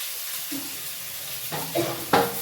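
Tomatoes stirred into cumin in a frying pan, giving a soft sizzle with a few scraping strokes that grow louder toward the end, near and unaccompanied.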